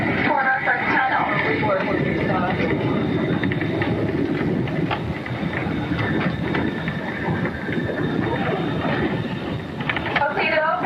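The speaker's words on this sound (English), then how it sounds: "we see the train cars moving through" Train cars rolling along a railway in Alaska, a continuous rumble with steady clatter and metallic squeal from the wheels, unbroken for the full stretch.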